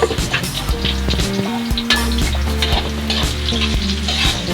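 Garlic and onion sizzle loudly in hot oil in a pan, a steady bright frying hiss with occasional stirring scrapes, close up and without any talking.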